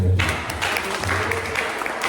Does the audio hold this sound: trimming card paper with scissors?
no